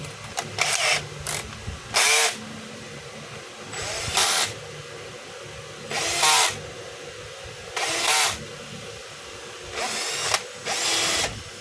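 Screws being driven into the motor cover of a DeWalt DCE100 cordless blower with a power driver, in about six short whirring bursts spaced roughly two seconds apart, close and loud over a quiet background.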